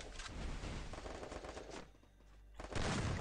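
Rapid bursts of automatic gunfire in a video game crackle loudly, pause briefly, then resume in another dense burst at the end.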